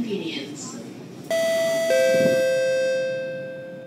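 After a murmur of background noise, a Roblox train's door-closing chime rings out on a Singapore C151 train, a high ding followed by a lower dong that lingers and slowly fades.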